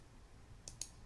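Two quick, faint clicks of a computer mouse, close together near the end, against a quiet room hum with no talking.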